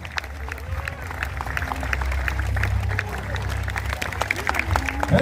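Scattered applause from an outdoor audience at an end-of-summer-season show, loose crowd clapping of moderate loudness with voices and background murmur mixed in throughout.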